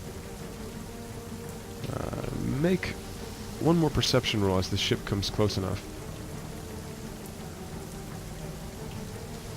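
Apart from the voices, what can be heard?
heavy rain during a ship scene, tabletop game ambience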